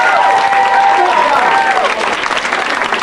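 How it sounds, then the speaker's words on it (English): Applause from an audience for the Talent on Wheels performers, a dense, steady wash of clapping with some crowd noise and faint cheering mixed in, loud and sustained throughout. "Would you give Talent on Wheels one more big round of applause?"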